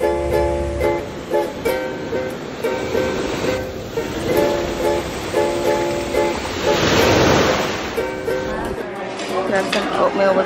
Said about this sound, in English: Breezy out right now.